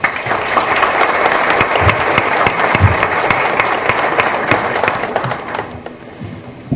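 Applause from a conference audience at a criminal justice lecture, greeting a guest speaker from the Federal Police's criminal justice services unit. Dense, sustained clapping fills the room, loud and steady, with a few sharp claps standing out, fading toward the end.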